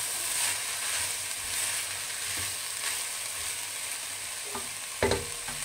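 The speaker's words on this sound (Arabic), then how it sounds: "انا خليت الخضرة ديالي تشحرت شوية" Vegetables for soup sautéing in a pot, giving a steady, fairly quiet frying hiss with occasional stirring scrapes and a couple of sharper knocks of a utensil near the end.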